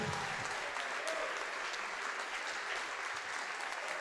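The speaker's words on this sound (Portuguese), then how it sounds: "Vamos aplaudir mais ao Senhor." A church congregation claps during a worship service, a continuous wash of many hands applauding at a fairly even, moderate level, somewhat distant and reverberant, without pause.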